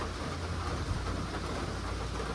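Rain pours steadily onto a U-Haul CT-13 camper under restoration, a soft, continuous hiss of drops on the shell with no voices present.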